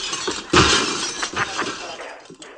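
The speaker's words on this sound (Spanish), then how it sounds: "¡Cargaros todos los cristales de la clase," Glass window panes in a classroom shattering, a loud crash followed by a spray of tinkling shards and a few smaller breaking bursts that fade out.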